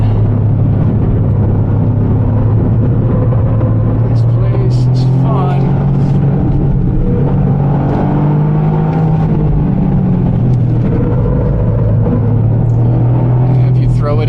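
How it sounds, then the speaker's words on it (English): A Sebastien Ogier Limited Edition Toyota GR Yaris is driven hard and thrown sideways, its engine rumbling loudly up close and surging as revs rise and fall throughout. "I'm really hustling this car around."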